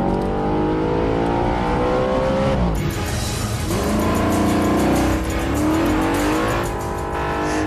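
An Audi RS5 Cabriolet with a 4.2-litre V8 accelerates hard, its engine revving and rising through the gears with loud, close roars and brief shift breaks.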